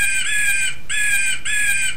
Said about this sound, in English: That's what a blue jay sounds like.